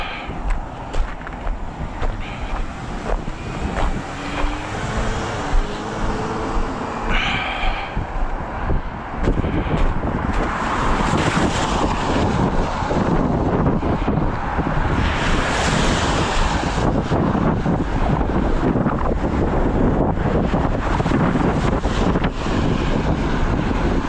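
Strong outdoor wind buffeting a microphone during a walk on a breezy day, a continuous loud roaring rush that swells and gusts throughout with no pause.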